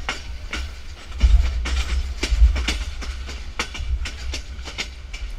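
A local train on Yangon's Circle Line in Myanmar pulls into the railway station, rumbling with a low steady roll and repeated clacks and metallic knocks from the cars, close and fairly loud.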